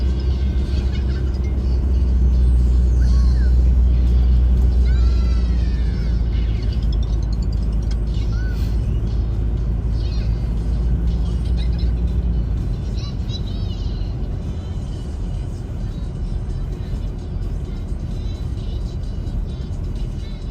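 Car driving on a snowy road through Winter Storm Ember, with a steady loud engine and road rumble throughout, tire hiss and whir, and faint voices underneath.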